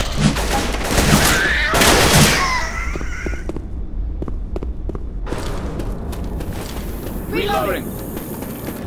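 Dense bursts of gunfire in the zombie shooter Left 4 Dead 2 rattle loudly and up close, briefly easing before sharper scattered shots return, with shouting voices over the action.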